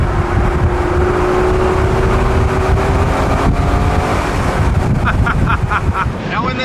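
Heavy, continuous wind buffeting roars around the open cabin of a 1999 Mercedes SL 600 convertible with its V12 and the top down, with road and engine noise blended underneath.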